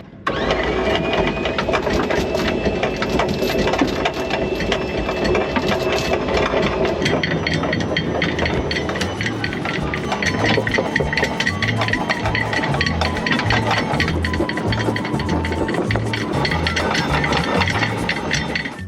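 A boat engine runs in neutral at a steady, rumbling idle at sea, with rhythmic low thumps and some metallic clinking, loud and close throughout.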